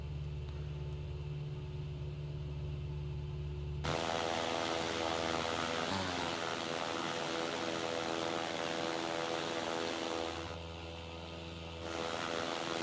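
Single-engine piston drone of a Cessna 172 in a flight simulator, a steady loud hum that shifts tone as the throttle is eased back for descent, dipping briefly near the end before swelling again.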